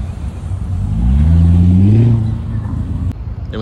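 A Chevrolet Corvette pulls in at a car meet, its engine rising in a smooth rev that swells and then eases off, fairly close and loud.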